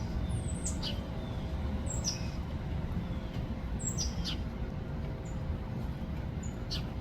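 Cardinals and a red-bellied woodpecker call outdoors: several brief, high squeaky chirps come at irregular intervals over a constant low background rumble.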